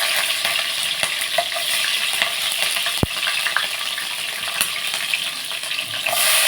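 Green chillies and ground cumin and coriander hit hot oil for a spinach and chana dal curry, producing a loud, dense, steady sizzle with one sharp utensil click partway through.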